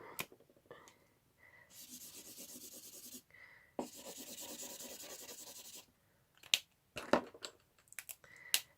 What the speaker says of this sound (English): you apply your alcohol markers onto the vellum